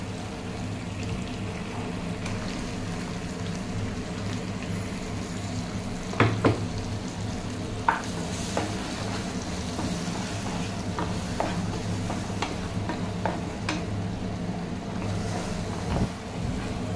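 Ginger-garlic paste fries in a pan for a prawn malai curry, a steady close sizzle broken by scraping clinks as a spoon stirs it around.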